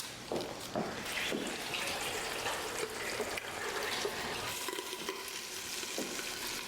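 Cauliflower cooking in a covered pan gives a steady, close frying sizzle that runs the whole time, broken by a few soft knocks and stirs, with no voices.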